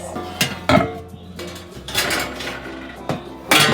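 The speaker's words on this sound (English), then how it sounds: "we're just going to take everything out of the oven" Metal roasting pan and baking pans lifted out of a home oven, with a few sharp clanks and scrapes of metal against oven racks, close and fairly loud, no talking.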